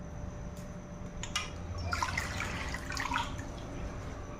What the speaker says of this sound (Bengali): জল থেকে প্রথমে এই শাকগুলোকে ছেঁকে একটা পাত্রের মধ্যে